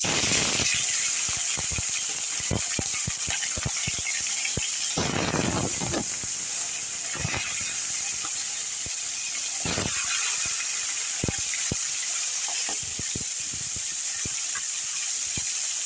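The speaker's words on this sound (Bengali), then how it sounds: "এখন আমি এর ভেতরে একটা একটা করে ল্যাটা মাছ ছেড়ে দিচ্ছি" Lata fish slipped one by one into hot oil in a wok, setting off a steady loud hiss of frying with sharp crackles and spatters throughout, no voices.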